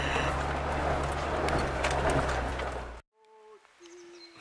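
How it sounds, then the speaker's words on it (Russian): Birds sing outdoors in light morning rain, a few thin whistled calls emerging faintly after a stretch of loud, steady broadband noise that cuts off abruptly. "как можете слышать, птички поют"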